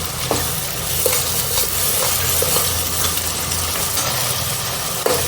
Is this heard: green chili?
yes